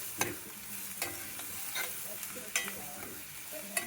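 Potatoes stirred with amaranth greens and tomatoes in a pan, a quiet continuous sizzle broken by soft scraping taps of the spoon at irregular intervals.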